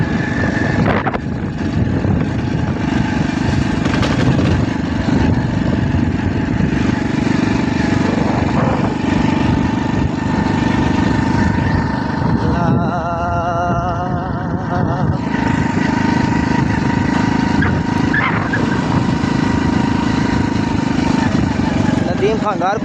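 A motorcycle engine drones steadily and loudly throughout, with a rough, continuous rumble while people talk over it.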